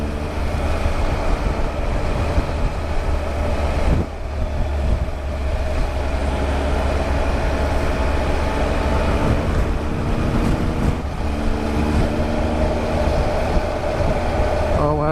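Continuous loud road noise from a 2018 Triumph Tiger 1200 motorcycle, a steady tonal hum and drone of tyres rolling on pavement at speed, louder on a changed road surface, with no talk.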